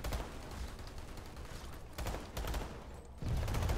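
Video game gunfire crackles in sustained, overlapping bursts like a firefight, loud and continuous with a few short lulls and a heavier surge at the end.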